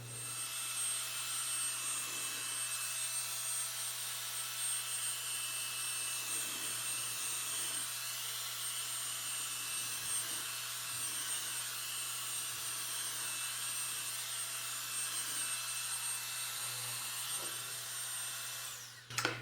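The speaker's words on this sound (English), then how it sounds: "So I like to just use a blower." Air blower used on an acrylic paint pour over coasters, a steady, fairly quiet whooshing hum that runs continuously, with no talking.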